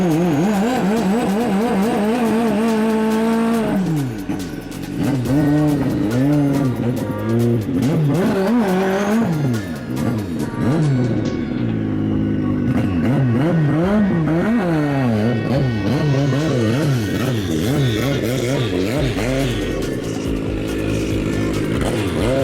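A turbocharged drag racing motorcycle with a Garrett turbo and stroker crank revs repeatedly at a private drag racing event, its engine pitch rising and falling in loud, close sweeps with tire squeal and other race vehicles nearby.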